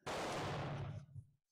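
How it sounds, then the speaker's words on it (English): A single loud rifle shot from a Danish rolling block in 11.7 caliber, firing a 45-70-based cartridge, booms with a heavy low-frequency blast and decays over about a second. "So I'm going to shoot the top target again"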